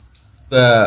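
Baby house sparrows being fed give a sudden loud burst of shrill, harmonic chirping that starts abruptly after a near-silent moment and continues close to the microphone.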